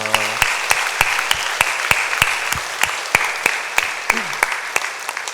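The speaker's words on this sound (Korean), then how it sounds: "우리 박수로 격려하겠습니다" A church congregation at a Sunday service claps for the teachers, with sparse, distinct hand claps repeating at a steady, almost rhythmic pace for several seconds.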